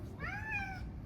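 A pet cat gives a single clear meow, a rising-then-falling cry close to the mic, over faint room background.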